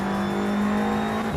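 A 2008 Porsche 911 GT3 RSR race car in a racing video game at Mont Tremblant drones loudly at a steady, high engine pitch, holding a constant note close up with no voices.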